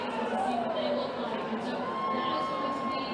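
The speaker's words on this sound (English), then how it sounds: "We thought those boos were cheers behind you, by the way. It just sounded rowdy and ruckus, for sure." A rowdy crowd at a Donald Trump campaign rally in Florida, a steady roar of voices and jeers that sounds like booing, sustained and loud throughout.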